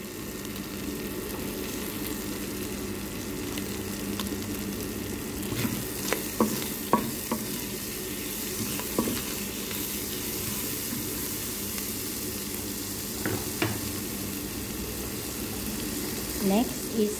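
Garlic frying in a pan for beef bourguignon, a steady low sizzle running throughout with occasional stirring clinks and scrapes near the middle and end.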